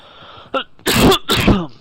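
A single sneeze bursts out close and loud, preceded by a short intake, then a second explosive burst follows almost immediately, with no talking around it.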